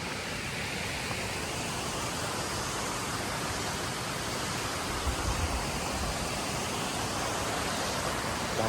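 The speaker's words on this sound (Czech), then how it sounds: "Už jsme došli dolů a uviděli jsme tady takový krásný vodopády." A waterfall in Croatia gives a steady, full hiss of rushing water, loud and unbroken throughout, with no voices.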